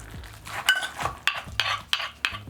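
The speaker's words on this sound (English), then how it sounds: "Go ahead and smash this into the paste." Green onions and cilantro are pounded into a paste for a Lao mushroom jeow, with a steady series of sharp, close thuds and clinks repeating roughly every third of a second.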